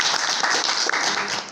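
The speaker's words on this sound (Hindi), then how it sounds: "उनके लिए एक बार ताली का।" An audience at a gathering about preserving tribal culture breaks into brief, lively applause, a close, full burst of many hands clapping.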